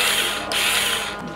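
A Tuoye cordless screwdriver runs in the tightening direction, giving a close, loud mechanical whir with a rattling, gear-like texture for just over a second.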